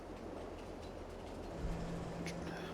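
Train carriages roll along rails in the farming game Farming Simulator 22, a steady low rumble with faint rhythmic clicks, growing slightly louder toward the end.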